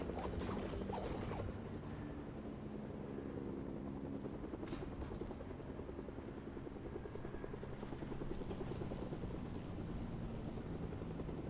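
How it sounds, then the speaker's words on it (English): A helicopter in the video game Fortnite whirs steadily throughout, its rotor chop droning at an even level with no talk over it. "Act like you don't see the helicopter."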